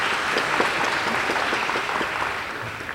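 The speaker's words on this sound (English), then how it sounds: "Let's give an applause, please." Audience at a graduation ceremony applauding, a dense, even wash of many hands clapping that holds steady throughout and fades slightly toward the end.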